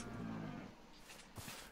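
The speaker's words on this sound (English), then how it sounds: "Cows!" A short low moo from a cow in the Minecraft modpack RLCraft, one drawn-out call followed by a few quieter game sounds.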